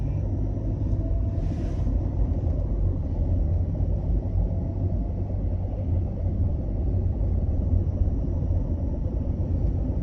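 A car's engine rumbles low and steady from inside the cabin during a driving lesson in Jakarta, a constant in-car drone with no clear rise in pitch and no talking.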